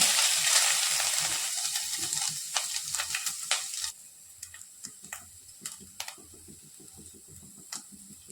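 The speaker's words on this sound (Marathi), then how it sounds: "त्यानंतर आपण जो सारणासाठी चव घेतलाय खोबऱ्याचा तो घालतो" Grated coconut goes into hot ghee in a pan for modak filling, starting with a loud sizzling hiss that fades, then gives way to a series of sharp, irregular clicks and scrapes of a spoon stirring against the pan.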